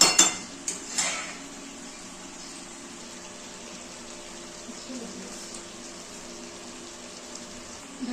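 Metal lid set onto a pot of Bengali-style mutton curry, a few sharp clanks at the start followed by a quiet simmering hum.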